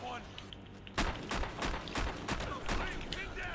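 AK-12 rifle firing in Battlefield Hardline, with rapid sharp shots in quick bursts from about one second on, loud and close over game background noise, with a voice talking.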